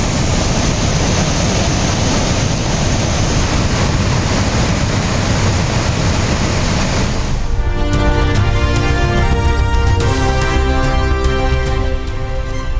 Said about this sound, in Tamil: கடல் சீற்றம், 7 அடி வரை உயர்ந்த ராட்சச அலைகள்.